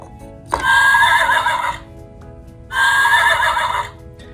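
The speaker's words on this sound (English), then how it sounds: "Horses make the sound neigh, neigh." A horse neighs loudly twice, each whinny a long quavering cry of about a second, separated by a short pause with a faint low background hum.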